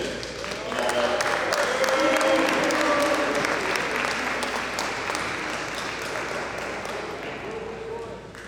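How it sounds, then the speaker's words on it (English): A banquet crowd at a high school football banquet applauds steadily, dense sustained clapping filling the room from start to finish, with some voices and cheers mixed in. "Let's give these guys a round of applause."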